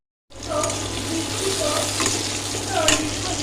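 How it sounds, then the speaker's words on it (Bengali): Potatoes frying in hot oil in a kadai for an egg and potato curry: a steady, continuous sizzle with occasional scraping stirs, close and moderately loud throughout. "আলুগুলো ভালো করে ভেজে নিই"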